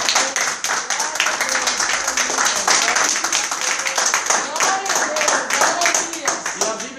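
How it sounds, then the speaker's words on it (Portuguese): A church congregation claps and applauds for God, a dense run of handclaps under and between a preacher's loud amplified voice. "Dá para dar uma salva de palmas para Deus?"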